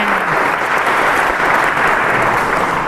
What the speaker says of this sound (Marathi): खूप जोरात टाळ्या झाल्या इथे